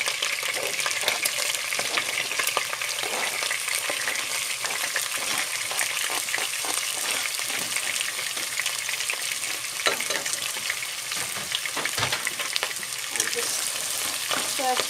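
Meat and chopped onion stir fry in a pan with a dense, bright sizzle that holds steady throughout, broken by occasional scrapes and taps of a utensil, close up and with no speech.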